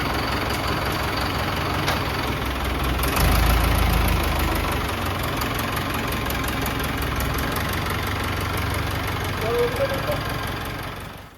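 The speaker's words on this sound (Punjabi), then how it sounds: "ਹੁਣ ਟਰੈਕਟਰ ਅੰਦਰ ਕਰ ਦਈਏ" A steady, low tractor engine rumble idles throughout at close range, with a slight surge partway through and faint background noise of rain on top.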